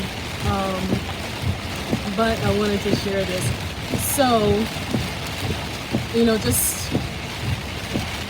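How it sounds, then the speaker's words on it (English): Heavy rain drums steadily on a car while driving, a constant wash of noise running beneath a voice talking throughout. "it is raining very hard and I'm driving."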